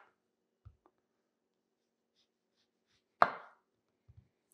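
Knife cutting the ends off an orange, a few sparse soft taps on a cutting board with one sharper, louder chop in the middle, close and otherwise quiet.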